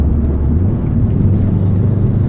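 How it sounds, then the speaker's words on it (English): A Subaru WRX drops down to third gear, its engine a loud, close, steady low rumble that runs throughout under road noise from inside the car. "I'm going to downshift to third."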